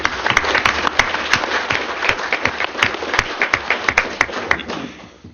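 A modest audience at a tribal council awards evening claps for an absent honoree, a smaller crowd whose individual claps stand out distinctly, tapering off and fading out near the end.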